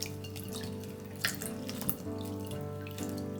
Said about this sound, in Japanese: いちごをボウルに入れて優しく洗いましょう。